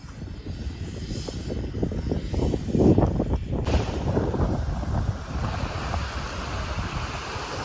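Waves and wind on a beach at Olenevka, a continuous rumbling wash of surf with gusty buffeting on the microphone, moderately loud and steady throughout, with no talking.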